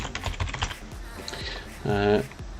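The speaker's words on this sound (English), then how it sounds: "Typing and talking at the same time can come up with some funny results." Rapid clicking on a computer keyboard, uneven bursts of keystrokes up close, with a voice speaking briefly toward the end.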